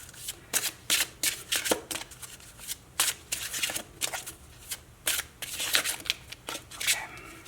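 Oracle cards are shuffled by hand for a pick-a-card reading, making a rapid series of crisp riffling bursts close by with short pauses between them.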